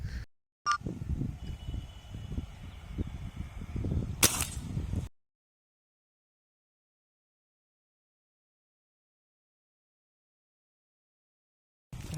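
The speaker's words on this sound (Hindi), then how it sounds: "मस्त शॉट मारा है" Airgun shot fired while hunting waterhens and wild pigeons outdoors: a single sharp, loud crack rises out of steady rustling ambience, then the sound cuts to silence.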